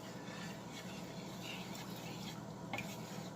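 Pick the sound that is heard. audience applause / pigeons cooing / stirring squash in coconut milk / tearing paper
stirring squash in coconut milk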